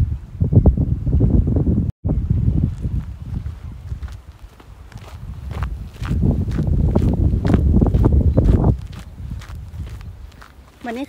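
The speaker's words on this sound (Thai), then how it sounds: "เพราะว่าลมมันแรงเนาะ" Strong wind buffets the microphone outdoors in Denmark in the evening, a heavy continuous rumble that swells and drops, with footsteps and a voice talking over it.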